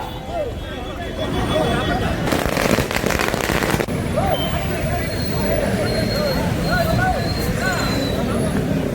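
Firecrackers crackle and burst in a loud, dense volley at a street celebration, with crowd babble and chatter underneath and a sustained burst cluster partway through.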